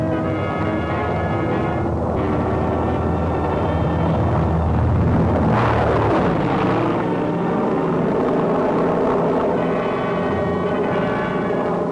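Propeller aircraft engines drone steadily throughout, with a swelling pass of a louder engine near the middle, as tow planes haul military gliders back to England during the 1944 Normandy operation.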